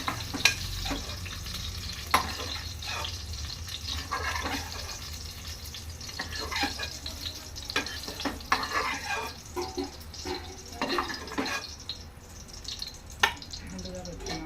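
Onion paste frying in a pan for egg curry, a steady low sizzle broken by intermittent spoon scrapes and stirring clatter, moderately near and continuous.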